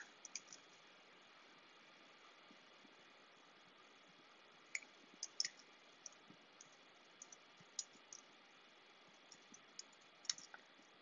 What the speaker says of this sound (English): Start typing in that box.